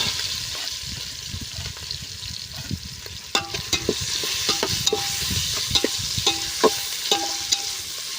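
Bay leaves and dried chillies fry in hot oil in a clay pot, a steady hiss and sizzle with occasional stirring scrapes and light taps, close and continuous.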